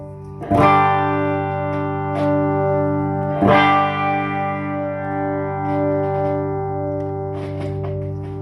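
A bass guitar plays through a Premier B160 Club bass amp, with two loud plucked notes that ring out and sustain with a buzzy, slightly distorted tone before fading slowly.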